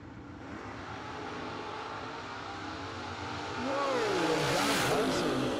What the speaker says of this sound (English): John Hudson sky launches it for 120 feet and takes the win.